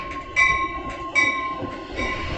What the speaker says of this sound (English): Milwaukee North train number 2138 to Chicago Union Station is now arriving.